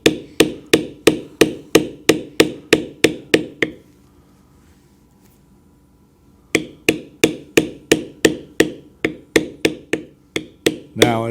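Mallet strikes on a leather beveling tool during leather carving, a steady run of about a dozen sharp, close taps, then a pause of near silence, then another even series of firm knocks.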